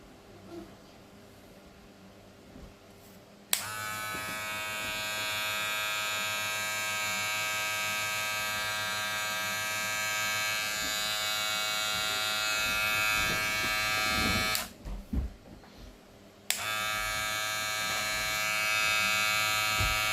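A Gamma+ balding hair clipper with a thin skin blade is switched on after a quiet moment and hums with a steady, bright electric buzz. It cuts off briefly, then starts again and keeps running.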